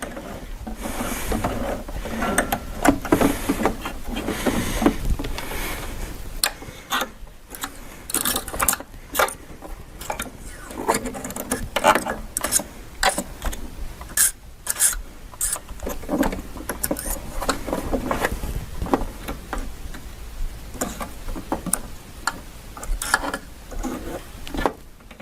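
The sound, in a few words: handwheel turned backwards on Baby Lock Applaud sewing machine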